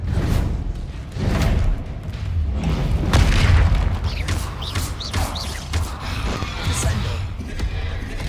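Confringo explosion spell cast in Hogwarts Legacy, a deep booming blast with whooshing magical sweeps and rumbling low end, loud and sustained over several seconds amid battle effects.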